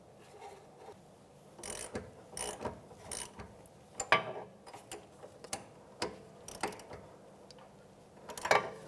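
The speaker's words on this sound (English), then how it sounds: "We're gonna situate it so we can get to these bolts and tighten this down." A hand ratchet clicks in short repeated bursts while tightening the bolts of an inner tie rod tool on an Acura MDX, fairly close and quiet with pauses between strokes.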